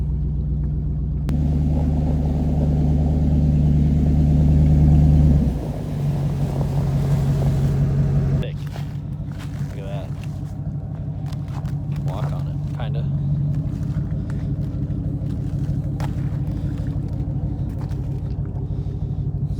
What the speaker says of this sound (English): we're gonna go as far as we can with the truck through the trails back here